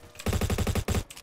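Rapid automatic fire from a Honey Badger rifle in a shooter video game, a tight burst of about ten close, loud shots with a brief break before the last rounds, no talking.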